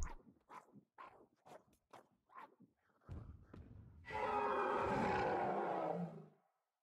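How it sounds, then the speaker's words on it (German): Fortnite roar emote of a dinosaur, a loud, broad roar lasting about two seconds that comes after a run of short thumping footstep-like hits, with no talking. "Aber den Brüll-Emote hier."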